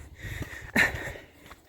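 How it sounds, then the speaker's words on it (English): A single short nasal sniff, close and moderately loud, with faint breathing and low rumble around it. "Excuse the sniff."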